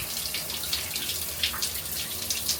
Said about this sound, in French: je vais prendre ma petite douche